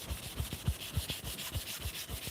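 Hand sanding gives a rhythmic back-and-forth scrubbing, about eight even strokes in quick succession, close and moderately loud with no talk.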